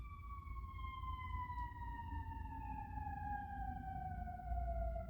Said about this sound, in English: Oh, there's sirens going on in my neighborhood.